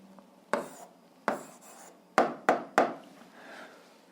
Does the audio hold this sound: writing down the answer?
yes